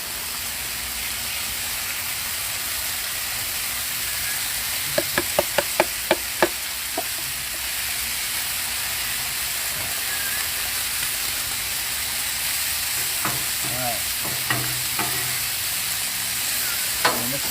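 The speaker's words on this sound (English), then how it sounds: "So now we're going to add the corn." Corn frying in bacon fat on a Blackstone griddle hisses in a loud, steady, rain-like sizzle, punctuated by clusters of sharp spatula clicks and scrapes as it gets turned.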